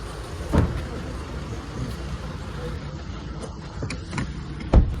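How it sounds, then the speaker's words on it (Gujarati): People get into a car, with a couple of sharp door thumps and shuffling under ongoing talk, set to a car trip to the Pavagadh Mahakali temple. "જો ચલો બેસી જઈએ આપણા ગાડીમાં"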